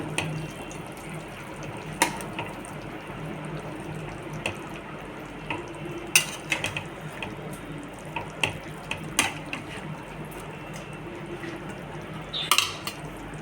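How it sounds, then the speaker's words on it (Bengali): Water running into a cooking pan on a home stove, a steady soft wash broken by a few sharp clinks and clatters of cookware, moderately quiet and without talk. "এবার একটু জল দিয়ে দেবো"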